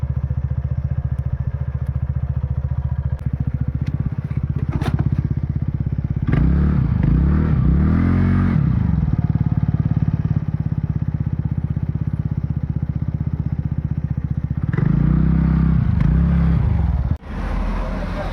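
A motorcycle and a scooter idle nearby, ready to set off on a mountain road ride from Kurseong toward Kalimpong. Under a constant low engine rumble, the engines rev up loudly twice with rising and falling throttle.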